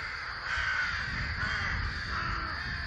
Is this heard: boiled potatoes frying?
no